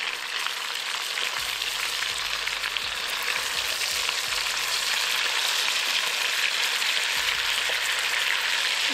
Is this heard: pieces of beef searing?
yes